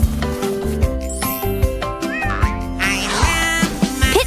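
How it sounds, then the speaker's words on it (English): A cartoon cat meows several times over bright children's music, its high, sliding cries rising out of the tune in short, repeated bursts. "It's how the cat says meow."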